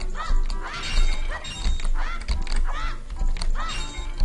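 Pots shattering in the video game Zelda: Ocarina of Time, a rapid series of loud, close breaking crashes repeating about once every half second, with no talking over them.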